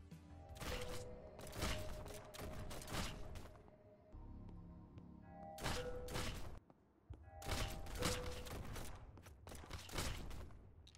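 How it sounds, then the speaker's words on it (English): Weapons in the stealth action game Disjunction fire in rapid clustered bursts with sharp impact thuds, several volleys separated by short pauses, fairly quiet overall. "The shooting does have some decent sound effects along with some impact"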